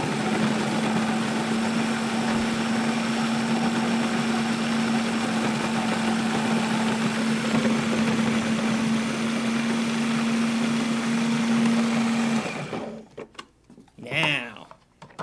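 Food processor chopping avocado for a spread, a loud steady whirring motor drone running for about twelve seconds before cutting off, followed by a few softer clatters.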